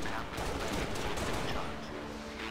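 Gunfire in the video game Halo: Reach comes as a dense, continuous rattle of overlapping shots, loud and busy throughout with no clear gaps, like several weapons firing together in a team volley.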